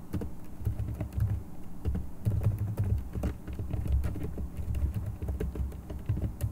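Quick keyboard clicks of someone typing on a computer, irregular and fairly close, over a low steady background hum with no talk.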